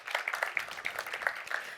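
Conference audience welcoming a panel onto the stage with light applause, a short spell of scattered, moderately close hand claps with a few sharper individual claps standing out.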